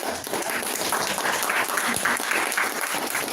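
Audience clapping at a Toastmasters club meeting in Madras, a dense, steady wash of many hands applauding together, fairly close and filling the whole moment without any talk over it.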